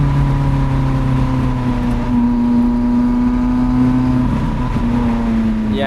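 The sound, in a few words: Lotus Elise mid-engine car driving on Sustenpass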